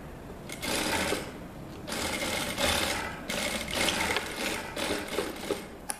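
Close, loud sewing machine runs rapid stitches along a shirt seam in several sustained bursts, its mechanical whir and needle chatter separated by brief pauses.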